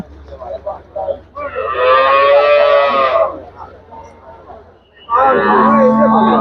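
Cattle and buffalo calves moo at a livestock market. Two long, loud, close bellows stand out, with quieter voices and farm noise in the gaps between them.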